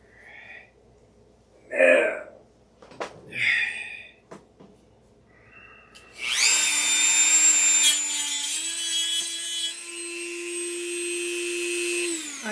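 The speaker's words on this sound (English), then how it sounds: "This is the crappiest Dremel I got. Bulky." After some handling noises and knocks, a bulky Dremel rotary tool spins up to a loud, high, steady whine. It runs for several seconds with a slight shift in pitch partway through.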